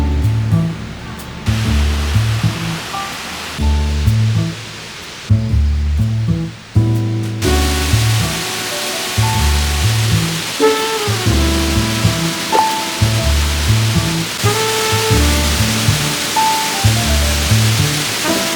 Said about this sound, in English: So we are here in the first waterfall called the Mentaki.